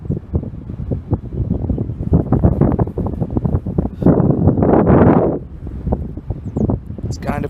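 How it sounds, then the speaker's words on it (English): Wind gusting outdoors on a cold, windy day, a steady rushing roar buffeting the microphone with stronger surges midway, while a person talks throughout. "It's kind of a windy day."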